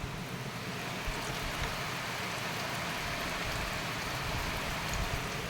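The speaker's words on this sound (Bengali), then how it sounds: "কি মুষলধারে বৃষ্টি হচ্ছে।" Heavy monsoon downpour pouring steadily and densely, a continuous loud wash of rain on surfaces with no pauses, heard during a home kitchen scene while khichuri cooks.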